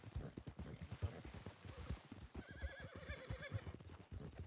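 Horse in a Western roleplay video game neighs and whinnies repeatedly while hooves clip-clop steadily underneath, with a muffled voice talking throughout.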